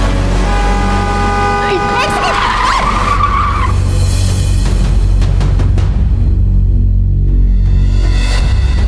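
A car skids with a long, loud tire squeal that rises in pitch and then breaks off, heard over steady engine and road rumble with no talk.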